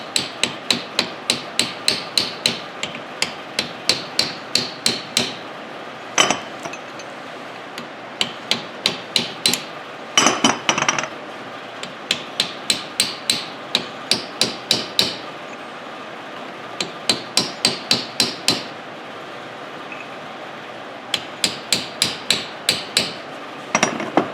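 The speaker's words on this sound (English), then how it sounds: "I am getting it with just a chisel and hammer" Sharp metallic hammer taps on a chisel in quick bursts of several strikes, pausing between runs, close and steady throughout, while rebuilding a Dodge Ram Cummins front driveshaft.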